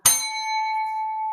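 A single bright notification bell chime is struck once and rings with a clear, sustained tone that lingers evenly for over a second, heard alone with no voices.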